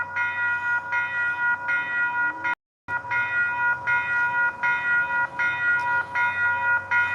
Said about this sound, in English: Yes, this will be a commuter train, guys.